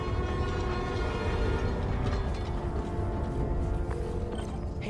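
A New York subway train rumbles past continuously in the Spider-Man Miles Morales video game, a loud, steady roar of wheels and carriages with faint metallic squeals throughout.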